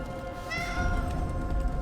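A cat meows once in the video game Dragon Age: The Veilguard, a clear drawn-out call heard close over a low ambient game background.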